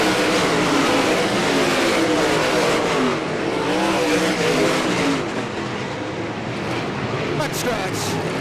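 Race cars at Great Lakes Thunder 2000 roar around the track in a dense, loud, sustained engine drone that eases slightly near the end, with commentary talking over it.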